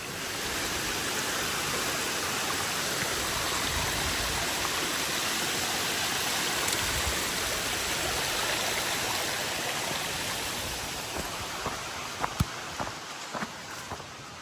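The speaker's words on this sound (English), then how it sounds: "That was a little tiny cascade or waterfall there." Seasonal mountain stream rushing over a small cascade along a hiking trail, a steady, loud, broadband wash of flowing water throughout, with a few faint footsteps or knocks near the end.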